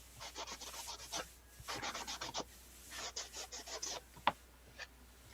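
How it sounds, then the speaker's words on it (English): A sanding block rasps across torn paper napkin edges in quick bursts of close, soft scratchy strokes, several clusters of rapid rubs separated by short pauses, with one sharper tap near the end. "And then I just took this sanding block"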